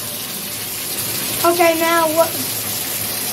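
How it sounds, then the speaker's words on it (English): Bath tap running water into a bathtub, a steady hiss of filling water with a short squeak from the tap partway through, while a person speaks briefly. "I'm just gonna wait for the bath water to come."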